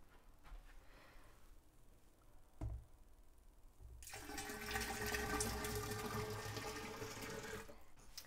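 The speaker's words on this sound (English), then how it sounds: "start filling it with water" Water running into a keg while making sparkling water: a quiet stretch with a few clunks, then a steady, rushing pour that goes on for several seconds before cutting off, moderately close.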